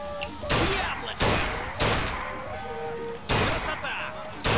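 In BioShock Infinite, a shooting gallery sets off four loud, sharp gunshots, each with a short echoing tail, fired about one to one and a half seconds apart with faint game sounds in between.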